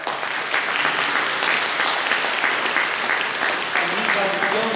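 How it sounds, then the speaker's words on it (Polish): Applause fills a Lublin concert hall as an audience claps for the organiser of a Mustel harmonium recital, dense and steady throughout, with faint murmuring voices underneath. "Także jeszcze raz brawa."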